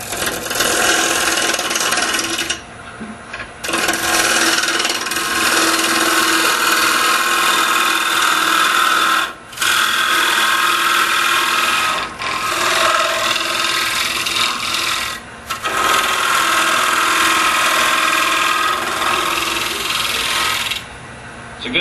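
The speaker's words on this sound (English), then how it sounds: "This side shear scraping cut allows you to remove small amounts of wood" A wooden square-edge bowl spinning on a lathe while a side shear scraping cut removes small amounts of wood, giving a steady close rasping scrape with a few brief pauses where the tool is lifted.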